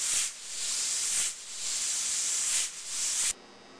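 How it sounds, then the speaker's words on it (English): A pressure cooker cooking pumpkin soup releases steam in steady, loud hissing bursts, three long pulses with brief gaps, before cutting off abruptly near the end. "we're going to let it pressure cook"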